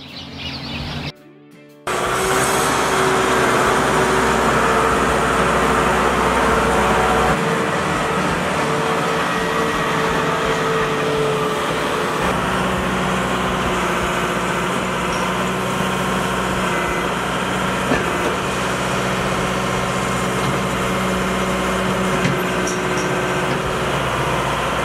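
A Kioti tractor working with a 4-in-1 loader bucket, moving wood shavings for calf bedding. A loud steady engine drone runs almost the whole time after a brief quieter start.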